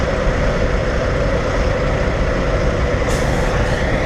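A truck pulls into the neighboring spot at a truck stop, its heavy engine rumbling steadily and loud throughout, with a short hiss of air brakes near the end.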